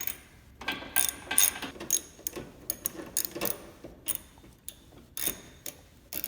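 A ratchet on a long extension with a 10 mm socket turns a bolt during a headlight install on a 2007 Honda Civic, giving a close run of quick irregular clicks in bursts with brief pauses between them.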